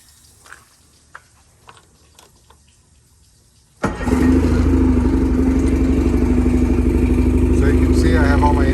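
A few faint clicks and taps, then a 1998 13.5 Nautica RIB's outboard motor cranks and catches, settling into a loud, steady idling rumble close by.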